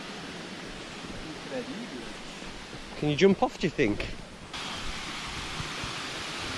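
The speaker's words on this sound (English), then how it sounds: "There's a waterfall and there's the pool." A waterfall pouring into a pool during wild camping gives a constant, broad roar of falling water, with people talking briefly over it partway through.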